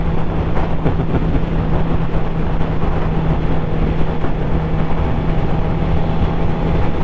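Motorcycle riding on an English country road, a loud continuous engine drone mixed with heavy wind rush, with no voices.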